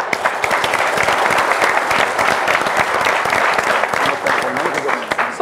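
A studio audience applauds loudly and continuously for a comedy show, with dense close clapping and a little crowd noise throughout.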